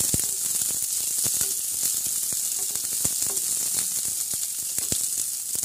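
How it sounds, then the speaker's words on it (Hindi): Onions sizzle in hot oil in a pan, a steady soft frying hiss with scattered small pops and crackles throughout, fairly quiet and without talk. "इसमें हम डालेंगे प्याज, इसको ट्रांसपेरेंट होने तक भूनेंगे।"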